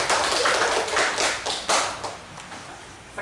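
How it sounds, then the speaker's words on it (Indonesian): A school class claps together, a burst of dense applause that swells, then thins and fades over a few seconds with no talking. "Ya, tepuk tangan buat kita semuanya."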